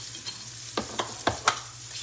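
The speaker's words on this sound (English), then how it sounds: "I'm going to add in these onions and peppers." Onions and peppers hit a hot frying pan for a shrimp and sausage pasta, giving a soft steady sizzle under a series of sharp utensil scrapes and taps, about five strikes spaced a quarter second apart.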